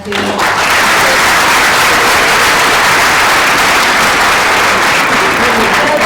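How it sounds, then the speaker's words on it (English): A conference audience claps together in a dense, sustained round of applause at a morning session, steady and loud from start to finish with no break. "a round of applause for David as well"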